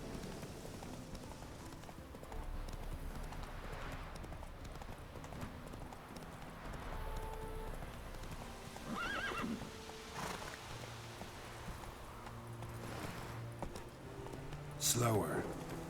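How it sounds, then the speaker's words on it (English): A horse in The Witcher 3 trots with steady clip-clopping hooves and lets out a whinny near the end, set against game ambience and background music, with some speech. "Whoa there, Roach."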